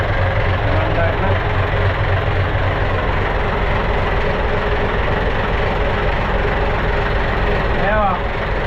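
A freshly started engine idles loudly and steadily close by, a continuous deep low rumble throughout, with a brief squeal near the end.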